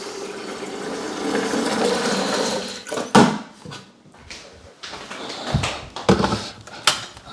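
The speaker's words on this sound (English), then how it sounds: "got the kettle. Let's get a bit of water in there." Water runs from a tap into a 2.5-kilowatt electric kettle indoors, a steady rushing stream for a few seconds, followed by scattered clunks and knocks as the kettle is handled.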